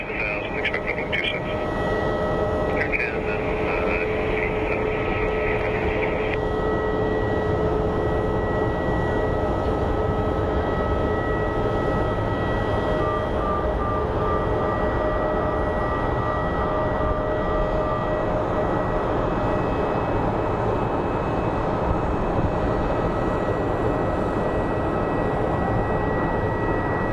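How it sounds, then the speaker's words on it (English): A Southwest airliner lands on runway 26 at Phoenix Sky Harbor, its engines a steady loud roar throughout with tonal whine, while air traffic radio chatter plays over it early on. "We have a nice touchdown."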